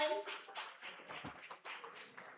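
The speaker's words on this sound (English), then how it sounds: "Y'all clap it up for her." Audience at a mental health symposium clapping for a prize winner, a brief burst of scattered hand claps from a small crowd with voices talking over it.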